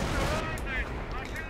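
Sniper rifle fire in the Company of Heroes strategy game, a dense burst of loud gunshot cracks and battle noise, continuous and close for a second and a half.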